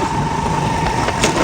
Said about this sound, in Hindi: मोटरसाइकिल स्टार्ट करता हूँ, निकलता हूँ